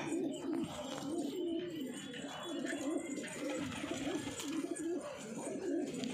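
Punjabi Malwai pigeons coo softly in repeated low rolling calls, a steady faint murmur of several birds close by with no talk over them.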